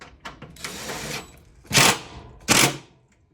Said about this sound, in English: we're going to tighten her down